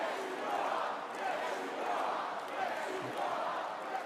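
An arena crowd at a Trump rally chants in unison, a distant, rhythmic swell of many voices rising and falling in repeated phrases.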